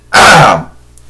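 A single loud, close throat clearing, one short rasping burst followed by quiet.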